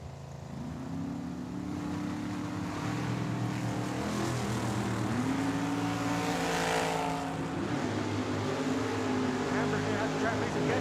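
A dragster and an '84 T-Bird race at Tucson Dragway, their engines screaming loudly and sweeping upward in pitch through the run. A voice, likely an announcer, sounds faintly beneath the engine roar.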